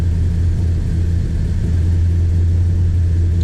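A warmed-up 1965 Plymouth Satellite engine runs close and loud with a steady, deep rumble and only a slight swell in revs.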